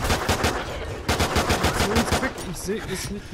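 Rapid machine-gun fire from the Call of Duty Extinction mode game, loud bursts of automatic shots running nearly continuously, with game sound effects layered over them.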